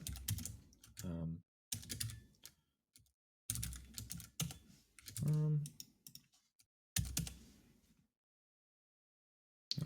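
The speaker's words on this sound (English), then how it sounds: "It's typing." Close keyboard typing in quick bursts of clicks with short pauses, a few brief voice sounds in between, then silence near the end.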